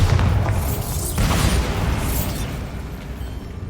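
Spell explosions in the Hogwarts Legacy video game during a final battle, a loud, dense rumble of booming blasts with a sustained low roar and brief crackling bursts.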